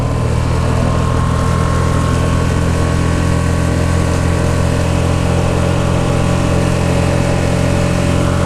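A small solo skiff's outboard motor runs steadily in gear, a loud continuous engine drone with a low hum and no pauses from start to finish.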